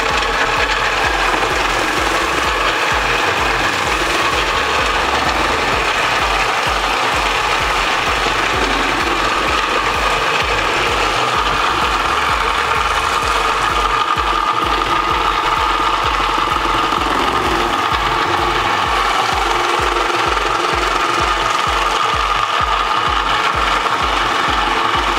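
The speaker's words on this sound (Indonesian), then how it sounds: "kita bisa matikan mixer" Steady, loud whir of an electric mixer running continuously for a long stretch, a dense motorized drone with faint rhythmic mechanical ticking underneath and no pauses.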